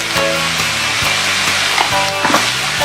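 Aloo gobi, potato and cauliflower for a vegan masala, sautéing in hot oil gives a loud, continuous sizzle close by, with rhythmic scraping and knocking as it is stirred.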